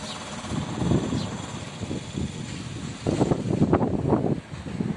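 Steady, rumbling wind buffeting the microphone in Benidorm, with gusts swelling and easing throughout and growing stronger near the end.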